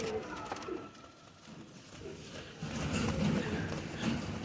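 Male Faqeer Gul style pigeons coo in a low, steady murmur that swells slightly toward the end, moderately close with no clear talk over it.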